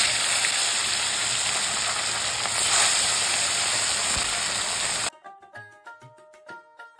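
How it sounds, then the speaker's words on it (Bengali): Bata fish frying one piece after another in hot oil in a wok, a loud continuous sizzle and hiss that stops abruptly near the end, followed by music. "কড়াই গরম হয়ে গেছে, তেলটা গরম হয়ে গেছে। তো আমি মাছগুলো এবার এক এক করে ছেড়ে দিচ্ছি।"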